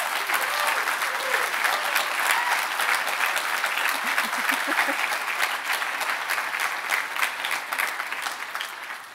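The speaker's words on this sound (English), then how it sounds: "you clapped over my last 10 seconds" An audience at a talk on delivery metrics breaks into sustained applause, dense steady clapping from many hands that holds for several seconds and slowly thins toward the end, with a brief voice partway through.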